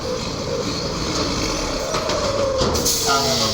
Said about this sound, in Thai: เสียงเทอร์โบอย่างโหด